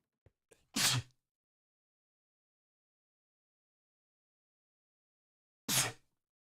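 Two sharp sneezes about five seconds apart, each a quick burst preceded by a short intake of breath, close and clear against silence.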